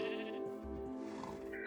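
A Minecraft Skyblock sheep bleats once or twice, a short wavering baa sitting over a constant droning background, fairly soft and near.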